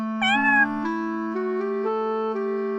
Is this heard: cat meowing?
yes